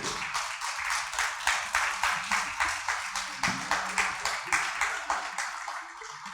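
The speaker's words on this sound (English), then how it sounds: "Clap properly, men." An audience at a literary event celebrating poet Srinivas Rayprol claps in a steady, evenly paced rhythm, with loud, close, regular beats throughout and no speech.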